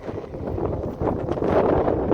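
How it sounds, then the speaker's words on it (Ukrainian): Strong wind gusts buffet the microphone out on a frozen lake in bitter cold, a continuous close rumbling roar that swells louder partway through. "тут на озері такий вітерець, що відчувається як ну, мінус 30 в обличчі, коли дме."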